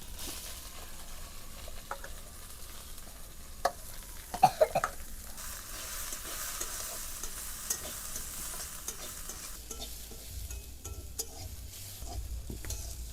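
Shredded cabbage for a momo filling frying in a pan, giving a quiet, steady sizzle with scattered stirring scrapes and a brief louder clatter, plus a faint cough in the background.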